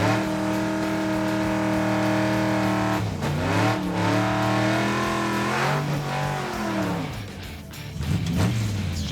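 A car engine at a race track runs loud and steady, then stumbles and surges in uneven bursts as if cutting out, close by with no talk over it.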